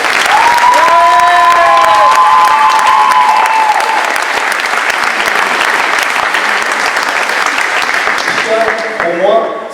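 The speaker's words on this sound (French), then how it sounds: "Je voudrais qu'on l'applaudisse" A crowd applauds loudly at a Toulon volleyball club's season jersey presentation, sustained dense clapping with voices and whoops mixed in, tapering slightly at the end as speech resumes.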